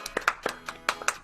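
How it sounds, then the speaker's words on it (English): A few scattered handclaps from an audience at an improv comedy jam, sparse and uneven taps spaced across a second rather than a full ovation. "give a round of applause to all of our panelists."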